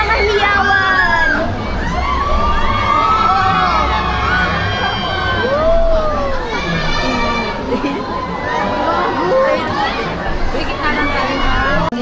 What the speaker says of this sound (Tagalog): Pakinig ng mga hiyawan!